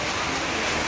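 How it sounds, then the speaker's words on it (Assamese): Heavy rain pouring down outside during an Assamese Bhaona performance, a steady, dense hiss of falling water with no break and no voices. "বাহিৰত পুৰা বৰষুণ"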